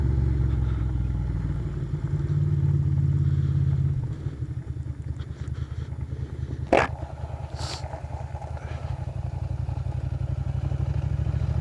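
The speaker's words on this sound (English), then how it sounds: "when you're taking a Ducati Monster off-roading up in the forest" A Ducati Monster motorcycle rides on dirt forest roads, its engine droning steadily close to the rider. Gravel clatters and the bike briefly scrapes partway through.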